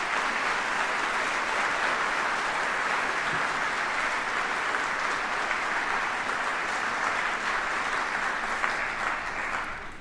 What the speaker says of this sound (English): please give us a round of applause for the folks standing before us